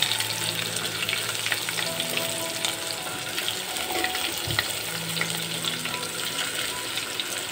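Vegetables fry in a hot pan for a spinach pitha snack, giving a continuous close sizzle with occasional stirring scrapes.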